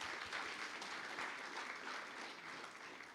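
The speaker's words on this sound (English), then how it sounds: "I want to give them another round of applause" An audience claps in sustained, steady applause for a children's song at a children's hospital anniversary celebration, dense and even throughout.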